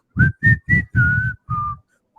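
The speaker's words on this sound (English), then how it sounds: "Just constant whistling." A person whistles a tune alone in a hotel lobby, five distinct notes in a row, the early ones short and the later ones held longer, loud and close.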